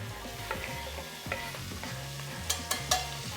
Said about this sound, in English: then go in with the peppers and the onions